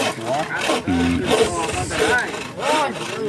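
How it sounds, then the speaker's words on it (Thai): A knife splitting freshly cut bamboo into thin tying strips while preparing for a Songkran merit-making festival, giving rough, continuous scraping and rasping strokes with short pauses, close by, mixed with people talking nearby. "มาซอยกันจักตอก"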